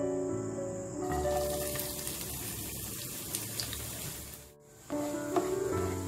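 Two medium-sized sliced onions frying in oil over a medium flame, giving a steady hiss that breaks off briefly and then resumes close and fairly quiet.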